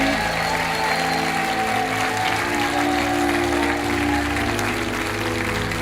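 Studio audience on a French money-drop game show applauds in a steady, dense wash of clapping that holds loud and even from start to finish.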